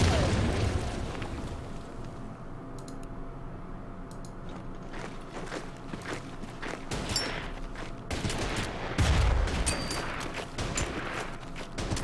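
An artillery round fired and bursting in the WWII strategy game Order of Battle: Panzerkrieg, with deep booms and rumbling blasts spread across a noisy battlefield, some crisp cracks mixed in, and heavier impacts later on.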